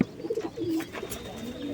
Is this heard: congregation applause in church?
no